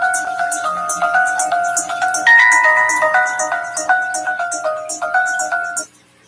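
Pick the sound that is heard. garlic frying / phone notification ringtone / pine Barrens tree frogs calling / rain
phone notification ringtone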